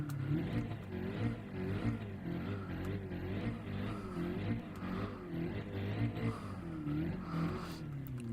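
Racing car engine from Gran Turismo 7 drones steadily, with rising and falling revs and periodic gear-change sweeps, the engine tone continuous and moderately loud throughout.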